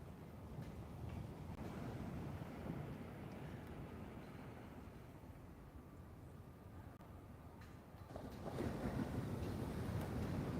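Atlantic Ocean waves breaking on rocks in the calming aftermath of Hurricane Erin, a steady low wash and rumble with wind buffeting the microphone, swelling louder near the end.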